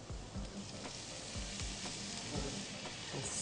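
Mushrooms with salt, chili flakes and lime squeezed in, stirred rapidly in a hot pan; a steady broadband sizzle runs throughout, broken by repeated scraping strokes of the utensil in quick rhythm, with no voices.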